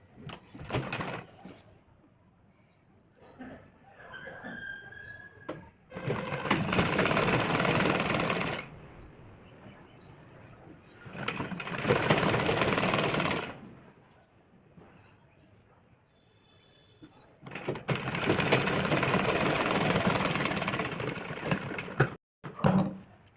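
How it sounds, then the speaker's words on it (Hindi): A sewing machine stitches a princess-cut belt blouse in three loud, sustained runs of whirring, separated by quieter pauses with faint handling noise. "हम यहाँ पे एक पैर की सिलाई लगा लेंगे।"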